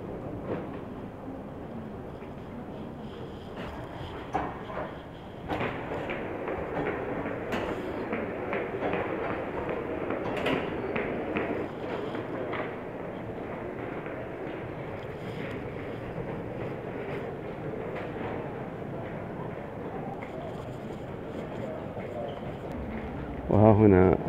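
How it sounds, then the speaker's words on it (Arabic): The Frankfurt Airport shuttle train to terminal B gives off a steady, rumbling rattle with faint clunks and a brief louder burst at the end, while a voice talks over it throughout. "وها هنا القطار الذي يقلنا إلى المبنى بي. وها هنا ندخل إلى القطار."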